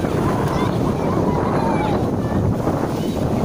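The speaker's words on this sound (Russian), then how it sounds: "Волны!" Sea waves at the shore in the evening, heard as a steady loud wash of surf mixed with strong wind buffeting the microphone, with no clear talking.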